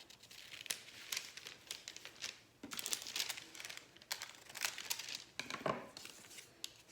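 Paper for a fall leaf lantern being cut with scissors to trim the excess, with soft crinkling and irregular snipping and rustling, quiet and close.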